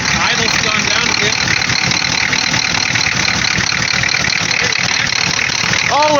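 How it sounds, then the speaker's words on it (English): A 1986 Ford F250 6.9 IDI diesel, revived after sitting for seven years, idles with a steady knocking clatter close to the microphone. It sounds rough, as if running short of fuel, and brief voices come in near the end. "she sounds like she's running out of diesel"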